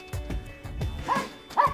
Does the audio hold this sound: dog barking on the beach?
yes